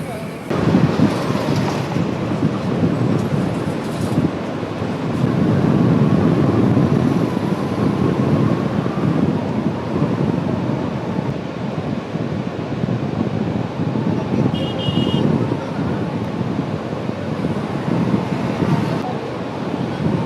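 Floodwater released from the full Basava Sagara dam pours into the Krishna river in a constant heavy roar, with gusts of wind buffeting the microphone and no voices throughout.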